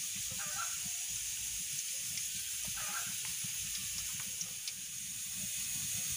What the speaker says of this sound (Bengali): আমি তেল দিয়ে দিচ্ছি।